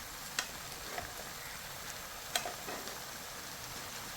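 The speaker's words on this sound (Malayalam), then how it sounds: "നമ്മൾ ഇങ്ങനെ മസാലയൊക്കെ തേച്ച് വെച്ചിരിക്കുന്ന നമ്മുടെ മുട്ട ഇട്ട് കൊടുക്കാം" Masala-coated eggs fry in hot oil in a pan for an egg roast, a quiet, steady sizzle with a couple of brief crackles and pops.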